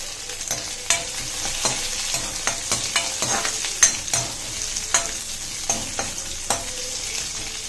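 Capsicum and roasted peanuts sautéing in a pan for sago khichdi, a soft steady sizzle with a spoon scraping and tapping the pan in irregular strokes, close and clear with no talk.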